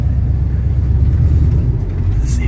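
A 1987 Dodge W150 with longtube headers idles in neutral, its engine giving a loud, deep, steady exhaust rumble throughout with no clear rise in revs.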